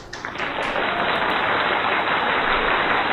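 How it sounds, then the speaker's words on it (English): Sustained audience applause greets a guest professor after a talk at an event, a dense steady roar of many hands clapping that swells quickly and stays loud and even for the whole span, with no voices over it. "let's give Prof a big round of applause."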